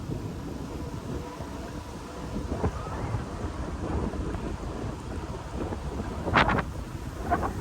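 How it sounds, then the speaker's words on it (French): Wind roars steadily across the microphone in low, rumbling gusts, with a few faint bird chirps and scattered knocks near the end. "Toujours du vent, du vent, du vent, hein."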